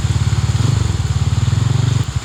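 A motorcycle engine idles loud and close with a steady, rapid chugging pulse while riding through deep knee-high floodwater during a severe flood in Minalin, Pampanga, the beat briefly changing near the end.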